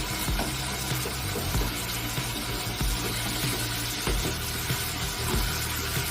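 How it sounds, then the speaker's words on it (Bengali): Okra (bhindi) frying in a pan for bhindi do pyaza, a steady close sizzle with intermittent scraping and stirring knocks from the utensil, no talking. "এবারে খুলে নাড়াচাড়া করে নেব।"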